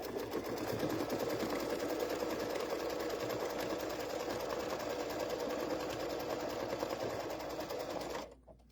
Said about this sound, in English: it's going to do that placement stitch for our other piece of border